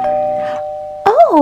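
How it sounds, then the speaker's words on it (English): A doorbell chimes in a home, a clear ringing tone that fades out, followed by a person starting to speak over the end of it. "that's the doorbell."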